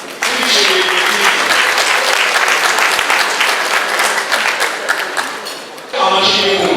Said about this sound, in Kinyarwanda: Twese duhe Imana amashyi y'impundu twishimiye kwiga.